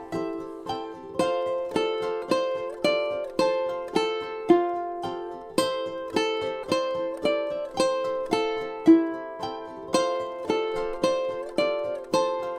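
Ukulele melody plucked along with a backing recording, a steady stream of bright picked notes over fuller accompaniment, continuous and even in level with no speech.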